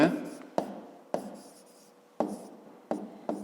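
A pen or pencil writes a math answer by hand on paper, making close, faint scratching strokes with sharp taps at the start of each stroke, irregularly spaced over a few seconds.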